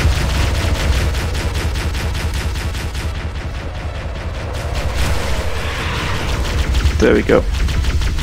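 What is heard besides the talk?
gunfire in the video game Halo: Combat Evolved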